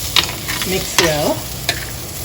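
Onions, eggplant and curry leaves stirred in a frying pan, with a few scraping strokes and a steady soft sizzle underneath, close and moderately loud.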